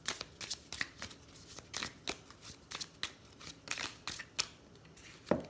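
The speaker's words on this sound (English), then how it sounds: "And let's pull some of these moon cards here." Tarot moon cards being shuffled and pulled from the deck, a run of close, crisp paper riffles and snaps in irregular bursts, with a sharper flick near the end and no talking.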